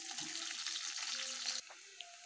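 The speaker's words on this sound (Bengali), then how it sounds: "ভাজা ভাজা হয়ে গেল দিয়ে দিচ্ছি শাকটা।" Greens drop into hot mustard oil with fried chopped garlic, setting off a loud, close, steady sizzle that suddenly eases to a quieter frying hiss.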